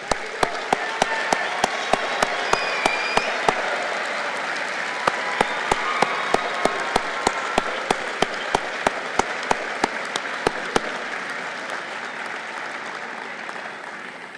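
Sustained applause from graduates and families at a Penn State Berks fall commencement ceremony, honoring faculty and staff, a broad steady crowd clatter punctuated by sharp, evenly spaced loud claps close by, tapering off near the end.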